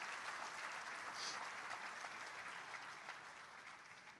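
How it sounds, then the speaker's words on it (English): An audience at the Philadelphia Sports Hall of Fame 2024 induction ceremony applauds, a dense steady clapping that stays even and fades slightly toward the end, heard from a distance. "So just a quick round of applause for everybody who kind of paid for us here."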